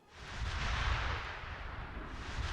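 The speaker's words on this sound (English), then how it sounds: "That was just an explosion. That's a CS gas grenade." A CS gas grenade goes off in a military video game, giving a muffled, rumbling blast that swells quickly and then settles into a lingering low hiss and roar, fairly quiet overall.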